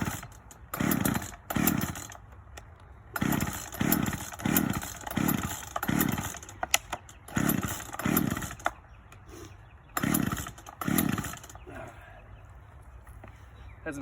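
Chainsaw being pull-started with the choke out: repeated bursts of pull-cord rattle and sputtering engine attempts in rhythmic groups, close and fairly loud, with pauses between tries.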